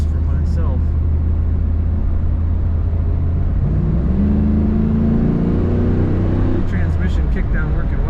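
The factory exhaust of a 1995 Chevrolet Camaro Z28 convertible, heard from inside while driving, a steady deep drone that rises in pitch as the car accelerates, with faint talk near the start and end.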